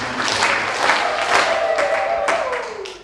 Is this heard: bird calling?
no